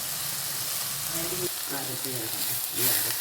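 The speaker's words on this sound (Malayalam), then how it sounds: "ആദ്യം അരി ഉഴുന്ന എല്ലാം കൂടെ കടു വറക്കും" Mustard seeds frying with rice and urad dal as a tempering for a yam-leaf stir-fry, a close, continuous hiss and sizzle with faint crackles, while a voice talks over it.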